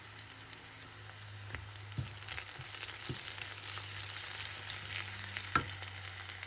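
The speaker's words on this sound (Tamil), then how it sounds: "வெங்காயம் வதங்கி வந்து கொண்டிருக்கிறதுல நாங்கள் வெட்டி வச்சுருக்க இந்த பச்சை மிளகாயம் சேர்த்து வதக்குவோம்." Chopped onions and green chillies frying in a pan for pumpkin chutney, a soft steady sizzle with a low hum beneath and a few sharp clinks of a spoon stirring against the pan.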